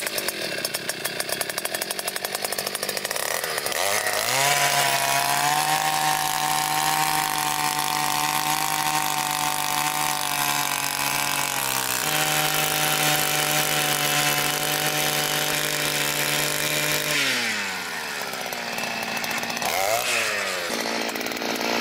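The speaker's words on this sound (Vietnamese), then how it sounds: "test chiếc máy khoan đất dành cho một người" A Takyo TK2P one-person gasoline earth auger runs steadily while drilling into soil with a 10 cm bit, its loud buzzing two-stroke engine holding high revs, dipping and surging in pitch as the bit bites and is eased off.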